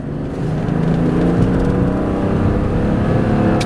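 A 1994 Mercedes-Benz E 320 sedan accelerates on its smooth six-cylinder engine, a steady close drone rising gently in pitch from inside the car, with no talk.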